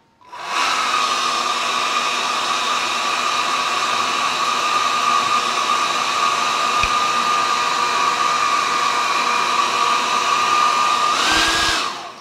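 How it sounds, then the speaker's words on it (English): Hairdryer blowing hot air to melt wax on a carved wood Green Man figure, a steady loud whooshing whine held for about eleven seconds before cutting off. "the trick is to get a hairdryer and melt the wax."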